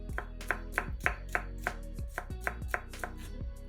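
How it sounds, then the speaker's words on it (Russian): A knife chops a large red bell pepper into small pieces on a cutting board, a steady series of crisp, close knocks at a quick, even rhythm with no talking. "1 красный сладкий перец разрезаем пополам и нарезаем небольшими кусочками."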